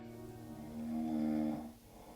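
Snoring heard from a room in the adventure game Gabriel Knight 3: one drawn-out, low, droning snore that rises and then fades, faint and muffled.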